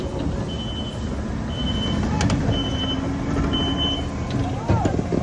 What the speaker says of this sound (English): Running 2 skid steers simultaneously.